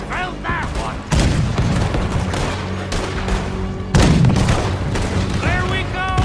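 Heavy gunfire and booming blasts in the Red Dead Redemption 2 video game, with two big volleys breaking out in a loud, dense battle din as someone talks excitedly over the shooting.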